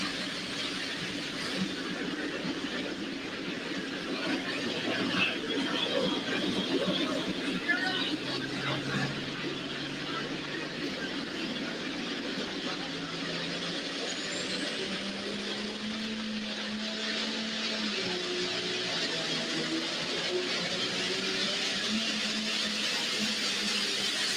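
A Ford 9600 tractor roars through a pull pass at an indoor winter tractor-pull event in Shipshewana, Indiana: a sustained, heavy engine drone with shifting tones, mixed with crowd hubbub and an announcer's voice.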